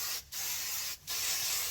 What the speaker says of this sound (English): I'm going to spray with some oil shine